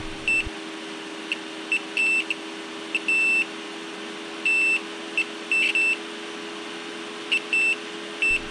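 A multimeter in continuity mode beeping while probes touch capacitors on an iPhone 7 logic board: short high electronic beeps in irregular bursts over a steady low hum, with no speech.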